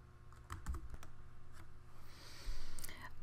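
Names typed on a computer keyboard into a OneDrive folder-sharing form, a steady run of light, close keystrokes over a constant low background hum, with no voices.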